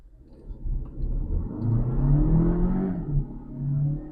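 Renault Arkana coupe SUV accelerating hard from 0 to 100 km/h, a steady engine drone and road rumble building for about four seconds, with a rising whir sweeping upward near the cabin.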